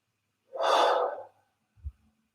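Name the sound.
person breathing in deeply during guided meditation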